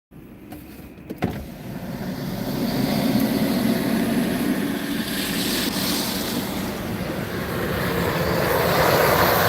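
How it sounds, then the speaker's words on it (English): A Delta airliner comes in to land during an ice storm, a broad steady roar swelling and staying loud throughout after a brief knock near the start, with no talk. "Our much awaited Delta flight here"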